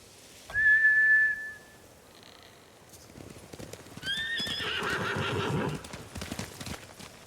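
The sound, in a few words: horses neighing and galloping, video game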